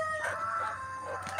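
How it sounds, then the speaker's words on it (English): A Buff Orpington hen, held close, gives a short run of clucks and drawn-out squawking calls that rise and fall, loud and up close with no talk over them. "Hello, little bird. Buff Orpington hen."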